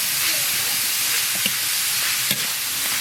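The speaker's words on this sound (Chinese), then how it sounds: "锅里不倒油，直接倒入肉馅炒。" Minced pork sizzling in a dry, unoiled wok in a rural northern Shaanxi kitchen, a steady close hiss with occasional scraping stirs and no talking.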